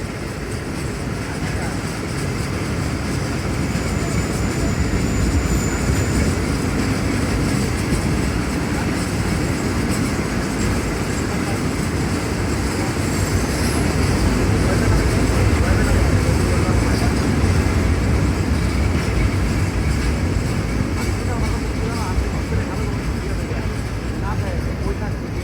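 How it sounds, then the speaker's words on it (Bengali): Ovijatri Commuter train pulling into Bhanga Junction railway station in Faridpur, heard as a steady, loud rumble of rolling wagons and wheel noise filling the whole stretch with no clear pauses. "আমাদের ট্রেনটি এখন ফরিদপুর জেলার ভাঙা আইকনিক জংশন রেল স্টেশনে প্রবেশ করলো"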